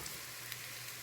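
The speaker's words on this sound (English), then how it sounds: "So here I'm going to start frying the tortilla into this oil we have in here." Tortilla frying in hot oil for red chilaquiles, a steady, even sizzle with fine crackling texture, faint and continuous throughout with no talk.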